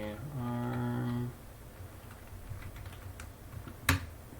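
Typing on a computer keyboard produces faint, scattered clicks after a brief steady tone at the start, with no talking over them.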